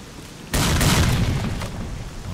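A grenade detonates in a first-person shooter game, a sudden loud boom that cuts in abruptly and rolls on in a heavy, rumbling blast for about two seconds, with no speech over it.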